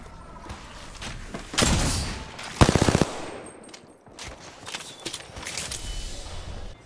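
Gunfire from the Apex Legends shooter game with Wraith, loud and near: a sharp burst of rapid automatic shots in the middle, with single heavy thuds before and after and lighter shots trailing off.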